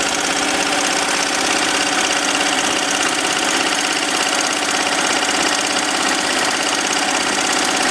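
A computerized embroidery machine stitches a drawn face design into leather, giving a loud, continuous mechanical whir with fast, even needle chatter that stays constant, no talking.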